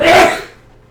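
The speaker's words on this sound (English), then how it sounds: "I'm going to sneeze, sorry." A single loud, close human sneeze bursts out sharply and fades within half a second, leaving near silence.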